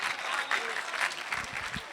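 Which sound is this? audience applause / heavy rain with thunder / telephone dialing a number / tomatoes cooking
audience applause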